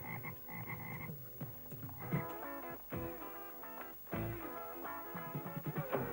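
Frog croaking set against a busy musical backdrop, the croaks rising in repeated bursts amid steady tonal layers, moderately loud throughout.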